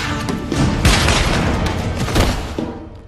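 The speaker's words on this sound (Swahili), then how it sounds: "Risasi kama zote." Heavy gunfire from an action movie scene: loud, dense bursts of shots and booming blasts crowd together in a continuous roar that fades slightly at the end.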